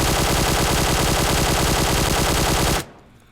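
A QBZ assault rifle fitted with a flash hider fires one long sustained burst of rapid, loud, evenly spaced shots in PUBG Mobile, cutting off abruptly into a short fading tail.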